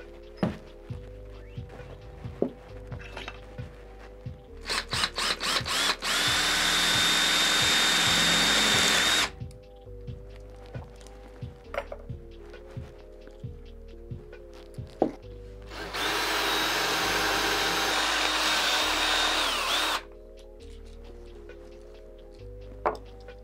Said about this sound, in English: So I think I want to just try and drill into it.